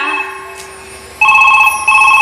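A telephone rings with a bright electronic warble, starting after a quieter moment and repeating in short bursts, loud and close.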